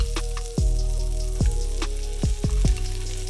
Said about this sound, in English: we're gonna put our garlic right in the pan